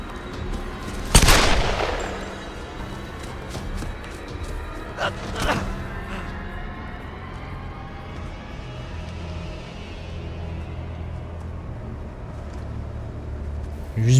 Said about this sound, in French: Juste brûler 6 balles de fusil